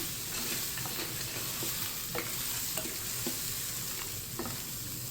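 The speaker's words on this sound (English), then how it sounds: "I'm just going to stir that in" Pasta is stirred into a Magnifique 8-in-1 multicooker pot while Tuscan chicken cooks, producing a soft constant sizzle with several light spoon scrapes and taps, fairly quiet and without speech.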